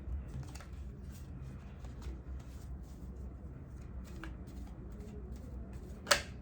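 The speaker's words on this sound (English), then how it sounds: "One more shuffle." Tarot cards being shuffled by hand during a card reading, soft quiet riffling and light papery flicks repeating over a low background hum, with one sharper snap near the end.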